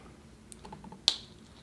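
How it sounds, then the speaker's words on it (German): A We R Memory Keepers button press gives one sharp, short plastic click near the end, after a few faint taps and handling sounds in a quiet room. "Ihr hört auch ein Klicken, wenn es drin ist"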